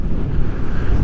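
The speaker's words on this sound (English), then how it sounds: "It's windy" Strong wind buffets the microphone at a high mountain lookout in Victoria's high country, a constant low roaring rush with no pauses.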